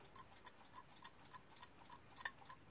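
Mechanical alarm clock ticking at a slow even rhythm, faint and close, with a slightly sharper click near the end and no talk over it.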